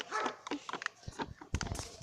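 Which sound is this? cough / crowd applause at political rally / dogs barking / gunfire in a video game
dogs barking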